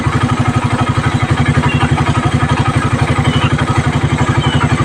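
A 180cc motorcycle engine with a 28mm carburetor runs close and loud with a rapid, even, pulsing throb, holding steady revs under tuning, with no talking.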